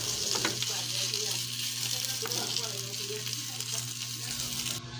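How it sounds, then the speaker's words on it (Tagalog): Food sautés in a little oil in a pan, giving a continuous, dense sizzle close up with a faint low hum underneath. "So ayan, ginigisa ko na siya."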